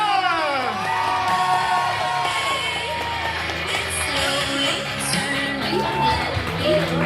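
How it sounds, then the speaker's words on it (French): A wrestling crowd at the JCW Legacy 2025 show cheers and whoops loudly for the wrestler L'Artiste, a continuous roar of shouts and yells with a voice sounding over it. "Applaudissez en grand nombre l'artiste."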